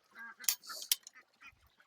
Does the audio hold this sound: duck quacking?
yes